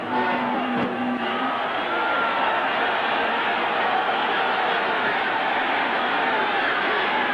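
A sellout stadium crowd at a 1980 Oakland Raiders versus Denver Broncos football game in Oakland gives off a constant, broad murmur and roar that holds level throughout.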